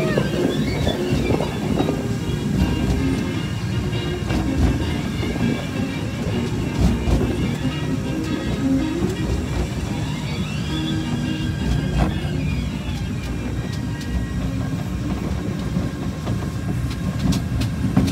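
The Casey Jr. circus train ride at Disneyland Paris rumbles and clatters steadily on its track. The loud, continuous rolling noise runs throughout with no talking.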